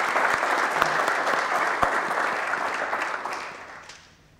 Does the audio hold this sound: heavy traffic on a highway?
no